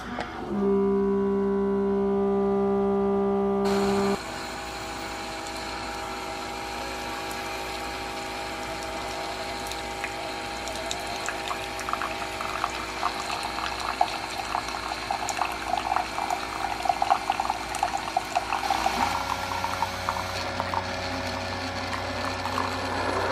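A single-serve coffee maker brewing through a refillable, fill-it-yourself pod cup: a steady pump hum for a few seconds gives way to water flowing and spurting through the machine, moderately close with no talking.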